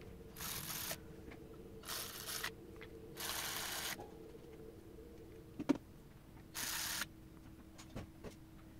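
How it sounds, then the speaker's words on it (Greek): An electric ratchet tightens bolts on the variator of a Piaggio Beverly 300 ie scooter. It fires in four separate buzzing bursts, each under a second long, with a sharp metallic click and light handling noises in the quiet gaps between them. "τώρα σφίγγουμε γύρω γύρω με την ηλεκτρική καστάνια"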